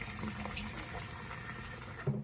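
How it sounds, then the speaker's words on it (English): Tap water runs steadily into a sink while an item is rinsed out during cleaning with dish soap, a continuous close splashing stream with a small clunk near the end. "just rinse it out real good"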